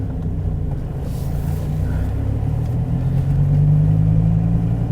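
A 2014 SRT Viper GTS engine rumbles low and steady, swelling slightly louder toward the end with no talk over it.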